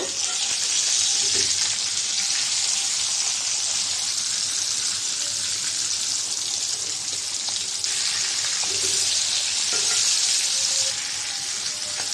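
Hilsa fish fries in a pan with oil, a continuous bright sizzle close by, broken now and then by soft stirring and clinks as the fish is turned.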